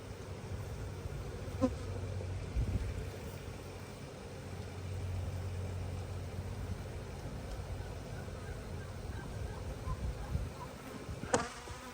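Honey bees buzz continuously during a spring hive inspection, with a close, steady drone and a few individual bees passing near.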